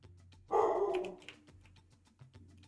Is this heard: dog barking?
yes